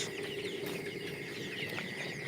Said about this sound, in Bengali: এক হাজার মুরগি আঠাশ দিন বয়স